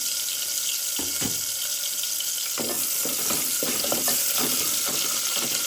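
Chopped onion and garlic fry in a pan with a constant, hissing sizzle, and scattered soft clinks and scrapes from utensils are heard close by.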